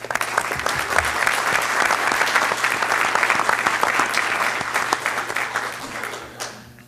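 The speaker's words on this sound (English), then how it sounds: "we'd like to give you a round of applause" Sustained applause fills a Fargo city commission meeting room, honoring Ruth, a retiring city health officer; dense, even clapping holds steady for several seconds, then thins and fades away at the end.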